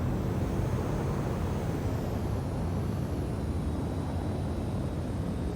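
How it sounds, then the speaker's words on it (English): A video game aircraft engine drones continuously as the throttle is pushed up and eased back, a loud, dense roar with faint shifting whine tones above it, and no talking. "Why is it that I can hear myself throttling up and down, but that bar isn't changing?"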